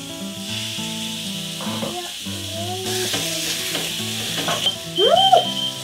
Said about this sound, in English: You want to sear these 1 minute on each side.